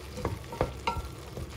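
A spoon scrapes and stirs through chicken and finely chopped potatoes in a pot, a few distinct knocks against the side over a soft frying sizzle.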